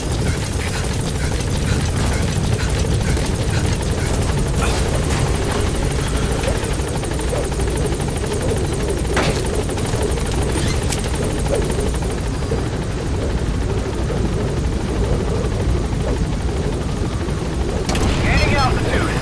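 The Pequod helicopter in Metal Gear Solid V hovers close by with a loud, continuous rotor thump and engine roar throughout, while radio voices speak over it.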